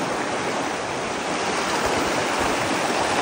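Steady rushing of a river, a continuous broadband wash with no pauses, close and fairly loud.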